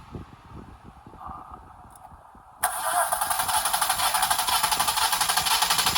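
A 3.6 Pentastar V6 with a failed bank 2 head and bad valves cranks over during a compression test: after a quiet, rattly lead-in, a loud, steady rhythmic churning of the starter begins abruptly and runs on without talk.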